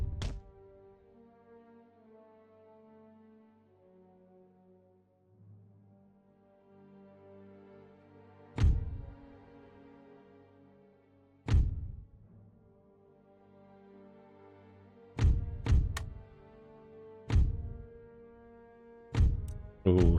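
Cannons in an Empire: Total War battle boom in sharp, separate blasts, spread irregularly with quiet ringing gaps between, then a closer cluster of shots toward the end.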